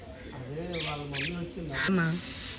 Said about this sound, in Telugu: ఇదిగో ఇది మనకి దొరికిన పక్షి